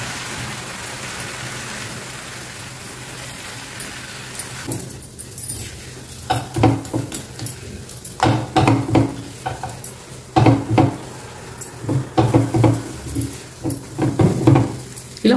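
A semolina and potato mixture being stirred in a pan on a low stove flame, with soft sizzling under repeated scraping and clacking spoon strokes that grow busier and more rhythmic.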